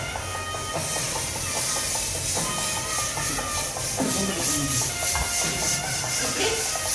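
A pot of pongal rice and milk boils over on Thai Pongal, giving a steady loud hiss and frothy bubbling with a shuffling undertone throughout, while voices talk faintly beneath.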